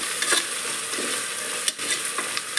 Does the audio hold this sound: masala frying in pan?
yes